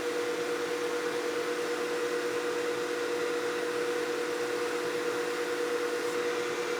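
Wood lathe spinning while an acrylic blank is lightly abraded, giving a steady, even motor whine with a constant tonal hum and airy hiss, loud and unbroken throughout with no talking.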